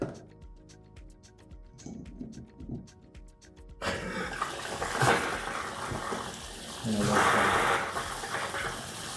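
Hot water gushes steadily from a bathtub faucet into the tub, a broad continuous rush that swells louder partway through, with a voice speaking briefly beforehand.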